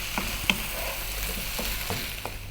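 Aloo methi, a dry fry of potatoes and fenugreek, stirred in a pan with the heat just switched off, giving several short scraping strokes over a faint background hiss.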